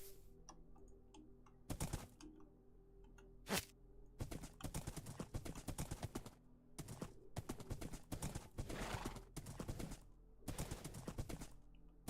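Rapid hoof clip-clops in uneven bursts, like a horse trotting in a video game, moderately faint over a steady low background hum.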